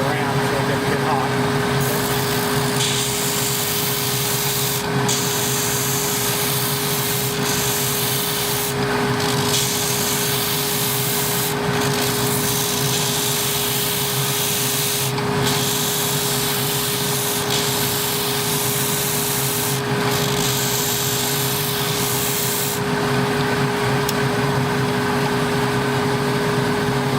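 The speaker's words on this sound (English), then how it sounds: "don't hold it against the sanding disc for very long" Bone guitar nut sanded on a spinning sanding disc, a loud continuous motor hum with grinding rasp that comes in repeated strokes, briefly dipping between passes, running the whole time without talk.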